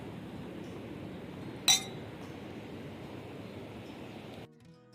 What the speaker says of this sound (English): Cheers, Pujay.